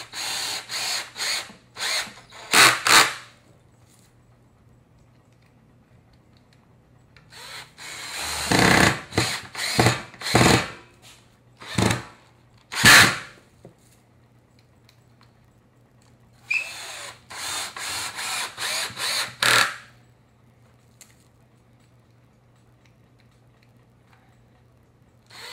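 A power drill drives 2.5 inch screws into a homemade wooden wind turbine blade, heard as several close, loud whirring bursts in three clusters, separated by quiet pauses.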